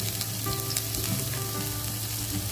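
Sliced carrot and the white part of spring onion sauté in a hot pan, a loud continuous sizzle and crackle held close and steady for the whole moment, with no voices.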